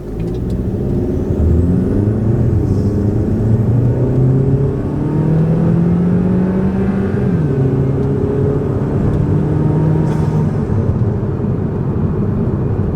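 A 2014 Chevy Cruze RS fitted with a cold air intake accelerates from a stop at about half throttle, engine note rising through gear shifts, loud and close, with no talking.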